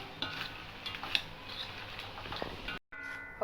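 Fried vadai being mixed into a thick palm-jaggery syrup, giving close, sticky stirring and soft scraping with a few light clicks of a utensil on the vessel, steady for about three seconds before a brief silence.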